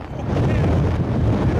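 Gale-force wind roaring past a boat, a loud, continuous rushing buffet with heavy microphone wind noise and no pause.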